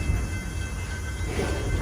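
A Torch Lake railroad passenger train rolls slowly on a weekend run, giving a steady low rumble of wheels and cars that stays even and fairly loud throughout with no clear horn.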